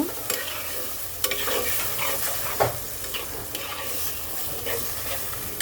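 Fish curry ingredients with taro fry in hot oil in a pan, a steady close sizzle broken by the scrape and clack of stirring, no voices.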